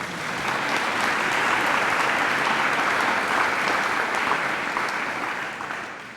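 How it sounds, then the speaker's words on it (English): Sustained audience applause at a university reunion weekend address, a broad, steady roar of many hands clapping that swells, holds for several seconds and then tapers off. "Let's clap."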